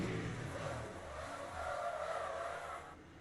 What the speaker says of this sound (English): Oh, just hard braking right there.